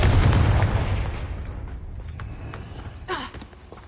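A Confringo blasting spell explodes in Hogwarts Legacy, a loud booming burst that rolls off into a fading rumble, followed by a brief whooshing spell flourish near the end.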